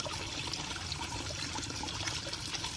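Water pours steadily from a homemade waterfall fed by a 12V DC 20W pump, a continuous close splashing trickle with no talk.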